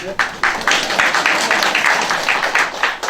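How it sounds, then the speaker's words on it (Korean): Residents at a redevelopment meeting break into applause, a short burst of crowd clapping that rises quickly and carries on fairly loud for a few seconds. "박수 한번 부탁드립니다."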